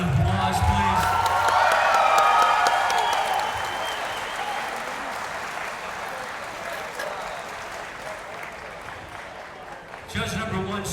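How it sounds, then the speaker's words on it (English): After a combat-sports bout, the arena crowd applauds and cheers loudly, with whoops mixed in. The noise fades gradually to a softer patter, then swells briefly near the end. "Let's give these warriors a nice round of applause, please."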